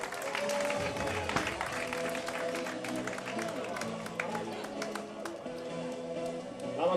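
An outdoor crowd claps for a minimoto race finisher at the Kotarr speed circuit in Burgos, with steady rattling applause running under a loud announcer's voice.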